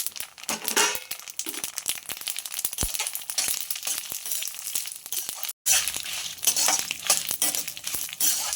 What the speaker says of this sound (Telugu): వీటన్నింటినీ మంచిగా వేయించుకోవాలి